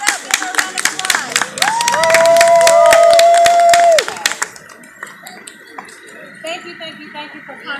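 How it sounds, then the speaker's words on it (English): Outdoor community parade crowd applauding and cheering, dense clapping with whoops and a rising whistle-like tone, loud at first and then thinning to scattered claps under nearby talk. "Give her a round of applause."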